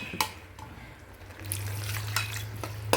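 Water is poured into a simmering chicken gravy in a pot; a brief clink comes first, then a close, steady splashing pour lasts about a second and a half before stopping.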